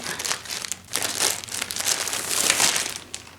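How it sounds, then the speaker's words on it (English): Plastic wrapping is torn and peeled off a memory foam pillow in loud, close crinkling bursts that come in several uneven waves, with no speech over them. "wrapped in plastic. Let's open that up, taking it off."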